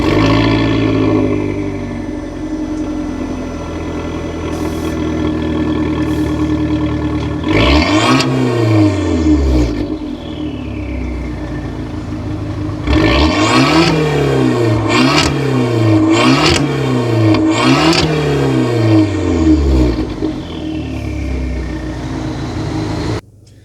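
A 2015 Fiat 500 Abarth engine idling, then revved hard in one long blip followed by a run of quick repeated revs, each rising and falling sharply, close and loud with no talk.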